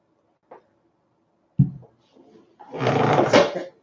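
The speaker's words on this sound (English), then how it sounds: "sorry about the squeaky chair, guys." Desk chair creaking and squeaking during a craft session at a table, with a short sharp knock and then a longer scraping creak, close and fairly loud in an otherwise quiet room.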